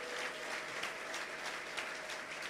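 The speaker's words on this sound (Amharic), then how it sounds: "ልልታ ጭብጨባ ያስፈልጋል" A congregation applauds inside an Ethiopian church, a faint, steady patter of many hands clapping with a soft tonal hum underneath, distant and quiet with no clear voices.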